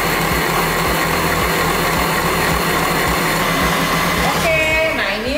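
Electric hand mixer running at high speed through thick cake batter for nastar cheese roll cake, a loud steady whir with rhythmic pulsing as the beaters churn, alone and close.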